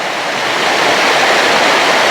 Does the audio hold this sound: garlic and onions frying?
no